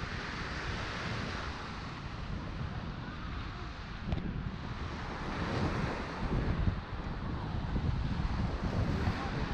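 Sea waves at Hajodae beach near Gangneung roll and wash as a broad, steady roar, mixed with heavy wind buffeting the microphone; no speech is heard.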